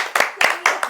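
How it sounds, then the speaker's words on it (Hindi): A small group claps in a quick, uneven rhythm, four or five distinct bursts of hand claps over a second, close and fairly loud. "रविता के लिए तालियां बजाई जाए"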